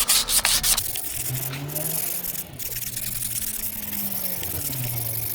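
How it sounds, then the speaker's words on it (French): Brake disc surface on a Renault Kangoo being deglazed with abrasive, giving close, steady rubbing and scraping strokes with a few sharper scuffs at the start and a low hum underneath. "moi ce que je fais toujours, c'est que je déglace la surface"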